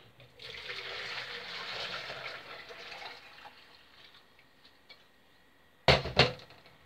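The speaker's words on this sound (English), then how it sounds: "I'm going to get this sugar solution into my plastic jug just to make it easier to pour." Hot sugar solution pours from a plastic jug into glass jars for bottling fruit, a steady close liquid stream lasting several seconds, then a couple of sharp knocks of jar or jug.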